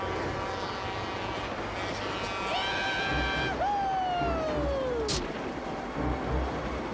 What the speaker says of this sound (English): the choo-choo's on its way